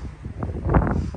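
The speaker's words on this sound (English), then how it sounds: "Sorry it's getting a little windy," Outdoor wind gusts buffet the microphone in a low, rumbling roar that swells briefly in the middle of the moment, with no voice over it.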